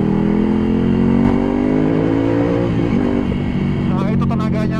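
A 2020 Ducati Scrambler Cafe Racer motorcycle accelerating, a loud, close engine drone rising steadily in pitch, with a rider talking over it near the end.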